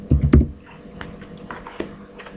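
A handful of quick keystrokes on a computer keyboard, entering a variable name while programming in Visual Basic 2010, with two loud close clicks at the start and lighter taps after.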